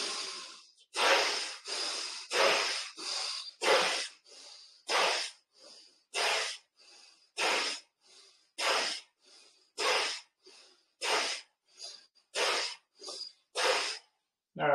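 Bhastrika bellows breathing with arm movements during a yoga session: about twenty forceful, rhythmic breath bursts, close and loud, with sharp hissing exhalations and inhalations in a steady pumping pattern, no talking.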